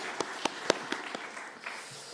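A church congregation claps during a Sunday worship service to encourage a missionary, a few scattered, fairly faint claps spaced out over a couple of seconds rather than sustained applause.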